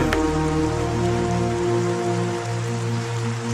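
Steady rain falls in a continuous dense wash, loud and close, with a low tonal hum running underneath throughout.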